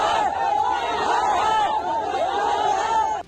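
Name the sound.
crowd of protesting migrant workers in Telangana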